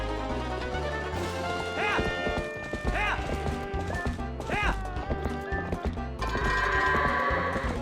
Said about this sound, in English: I'm herding the goats.